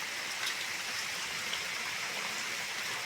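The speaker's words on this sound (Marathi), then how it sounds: "आता बघा मित्रांनो पाऊस किती पडतोय." Steady heavy rain pours down on a farm field in Konkan, a dense continuous hiss with no pauses, close and fairly loud with no voices.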